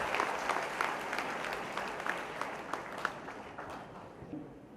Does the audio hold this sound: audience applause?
yes